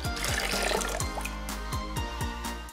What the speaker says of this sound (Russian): Теперь возьмем миску, наполним ее водой и опускаем туда.